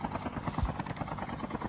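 A helicopter flies in a battle royale video game, a steady rhythmic rotor chop with a low engine throb, moderately faint and continuous, heard alone without talk.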